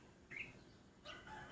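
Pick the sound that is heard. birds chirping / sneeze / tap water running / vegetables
birds chirping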